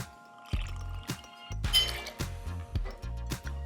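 Fresh lemon juice is poured into a cocktail shaker in bursts, with liquid splashes mixed with sharp glass and metal clinks, close and fairly loud, with no voices.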